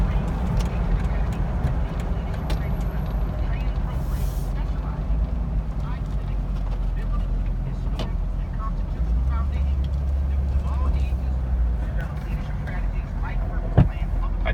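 A 2006 Jeep Wrangler LJ with 51k miles cruises along the road, its steady engine and road rumble continuous throughout, with a brief knock near the end.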